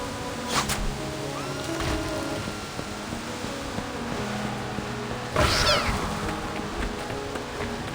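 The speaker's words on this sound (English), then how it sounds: "What are all these splinter cats doing here?" Splinter cats meowing in a video game over a steady ambient bed, with a couple of brief cries near the start and a louder, drawn-out yowl around the middle.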